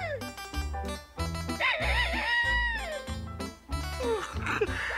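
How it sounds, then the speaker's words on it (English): Rooster crows played from a compact disc in a cartoon scene ring out as loud, drawn-out, wavering calls over a busy background of other sounds. "now that they've brought out a whole compact disc of rooster crows"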